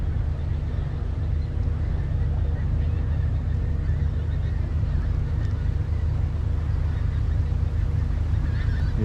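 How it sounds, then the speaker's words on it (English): A flock of geese honks repeatedly over a constant low rumble, the calls overlapping in a noisy, unbroken racket. "Sound like geese."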